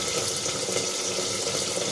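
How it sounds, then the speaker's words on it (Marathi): Steady running tap water splashing continuously into a sink while rinsing dill greens, with no voices. "भाजी साफ करून घेतली का अशीच धुवायची कापायच्या आधी"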